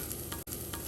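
Rice fries in ghee with spices and green chillies, a steady close sizzle with soft stirring scrapes and a brief dip in the middle, with no talk.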